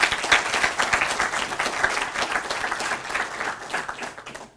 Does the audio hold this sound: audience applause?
yes